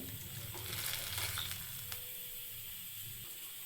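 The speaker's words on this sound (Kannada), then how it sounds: "ಸೊಪ್ಪು ಮತ್ತು ಕಾಳನ್ನ ಬೇಯಾಕಿದ ನೀರಿತ್ತಲ್ಲ, ಅದನ್ನ ಹಾಕ್ತಿದ್ದೀನಿ." Water used to cook greens and gram is poured into frying masala for a Karnataka greens bassaru, making a steady bubbling sizzle with a faint pouring sound underneath, close and moderately quiet, with no voices.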